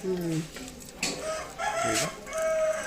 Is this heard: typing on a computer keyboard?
no